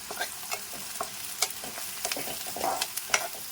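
Cinnamon and cloves fry in a pan for curd chicken, stirred with irregular, clattering spoon scrapes over a light sizzle, close up and without speech.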